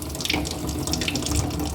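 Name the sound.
water poured into a coffee machine's water filter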